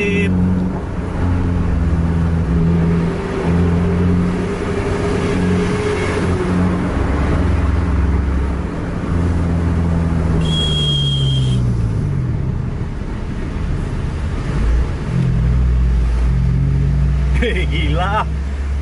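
City buses in Medan, Indonesia, race each other, their engines revving hard and roaring loudly. A horn sounds briefly while voices chatter excitedly over the continuous engine noise.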